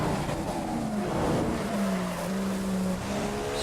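A Williams F1 car in F1 2015 races in the wet at Brazil, its engine whining steadily up close with rising and falling pitch over a constant roar of spray and track noise.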